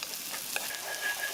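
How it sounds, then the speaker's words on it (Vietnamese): Shallots frying in a spoonful of oil in a pot, a steady close sizzle and crackle for a Vietnamese dipping sauce, alone without talk. "Cho vào nồi 1 muỗng canh dầu và mình cho khoảng 1 muỗng canh hành tím vào,"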